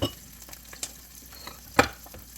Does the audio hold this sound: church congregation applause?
no